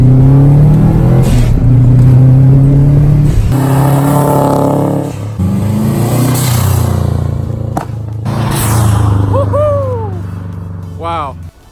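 A Subaru STI race car with a freshly rebuilt turbo accelerates hard, its engine droning and revving up through gears, close and loud with sharp shift breaks, while people talk briefly inside.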